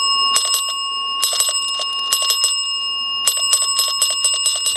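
A ghost hunting device with a built-in bell goes off in repeated bursts of rapid, bright electronic ringing, with steady tones running underneath and short pauses between clusters.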